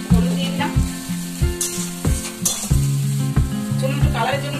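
Turmeric and whole spices such as ginger, cumin, garlic and mustard sizzle loudly in hot oil, with repeated clanks of a spoon stirring in the pan throughout.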